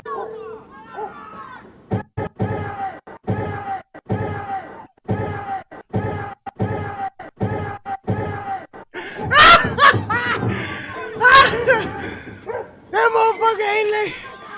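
A dog barks repeatedly in a rapid, regular series of loud, close barks during an attack, then gives way to chaotic shouting, yelling and scuffling noises with more bursts of barking mixed in.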